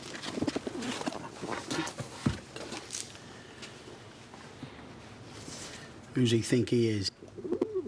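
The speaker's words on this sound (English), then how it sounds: "I've having pigeons in my hospital." Pigeons coo inside a hospital building, a few soft throaty calls heard in the gaps between people talking, with a louder, closer burst of cooing near the end.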